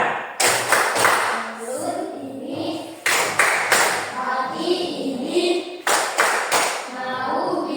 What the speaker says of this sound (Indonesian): Oke, kalau gitu tepuk semangat.